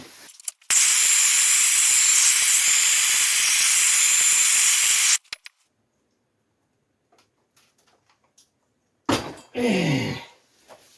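A torch roars with a steady, loud hiss for several seconds while heating a seized strut part on a Ford Escort MK1 under restoration, then cuts off to near silence before a brief metallic clank and grinding scrape.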